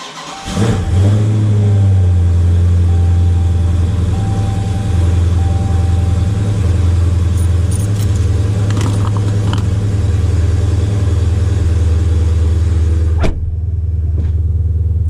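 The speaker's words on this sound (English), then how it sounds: "do the traditional cold start, except this time from inside the car" A 2020 Dodge car engine cold-starts in cold weather after sitting unused for a couple of days, heard from inside the cabin: a brief crank catches into a loud rev, then settles into a steady, deep rumbling idle that cuts off near the end.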